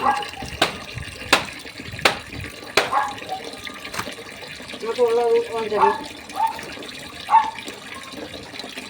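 Water runs from a tap pipe with a soft, continuous splashing beneath a voice, mixed with a few sharp knocks and clatters.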